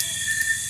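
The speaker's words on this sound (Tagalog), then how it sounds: "Tuko pala yun." A tokay gecko's loud, steady insect-like buzzing call with a sustained high whistling tone, heard close up in the night and ending with a short click.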